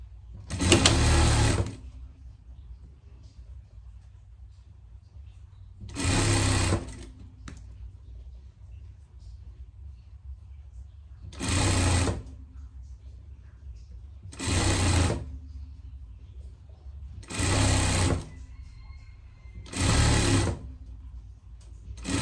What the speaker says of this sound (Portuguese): Vamos passar uma costura de segurança aqui.